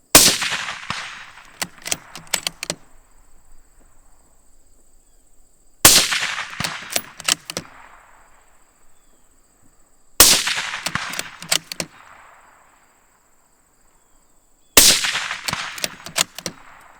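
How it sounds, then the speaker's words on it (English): Rifle shots fired outdoors with Remington ammunition, four separate sharp loud cracks spaced a few seconds apart, each followed by a ringing echo and metallic handling clicks, with no talking. "Let's just go for 10 more rounds real quick."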